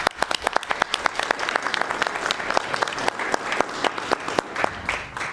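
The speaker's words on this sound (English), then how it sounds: "Let's give her a round of applause." Lively applause from a crowd at a local commission meeting, with many sharp distinct claps sounding close, lasting about five seconds without speech.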